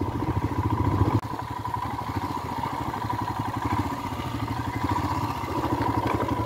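A motorcycle turns off the main highway onto a shortcut road. Its close engine gives a steady droning putter with a faint rattle and runs throughout with no voices.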